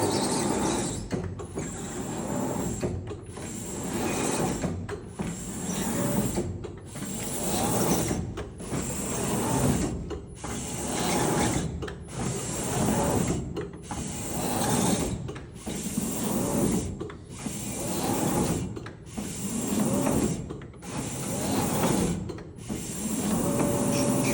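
A Seewer Rondo SFA612 computerized dough sheeter runs with a steady mechanical whir, broken into regular cycles about every one and a half seconds by brief pauses and clicks as the rollers reverse, recorded close and without talk.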